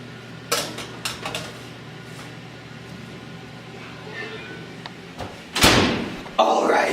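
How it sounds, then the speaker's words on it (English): An oven door in a home kitchen thumping shut after a pizza goes in, preceded by clattering pans and utensils, with a loud slam near the end and people talking nearby. "let's throw this in the oven for like maybe 10"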